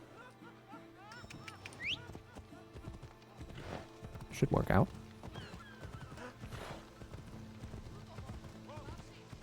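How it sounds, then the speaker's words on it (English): Hooves clatter and a horse lets out a sharp whinny midway, amid Assassin's Creed game sound effects with a voice speaking briefly. "I'm just gonna call my horse"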